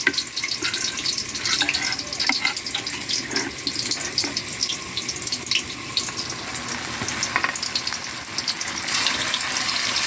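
Tofu frying in a pan, a steady hissing sizzle with crackling spatters, fairly quiet and continuous with no talking.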